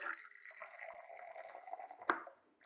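About 200 ml of batch-brewed coffee poured back into the brewer to mix the layers, a quiet, steady liquid trickle with a brief louder splash near the end.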